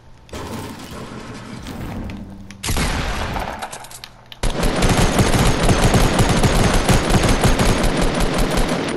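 Gunfire in the video game Fortnite: bursts of rapid shots ring out, then a longer dense stretch of automatic fire rattles on loud and close to the end, with no talk.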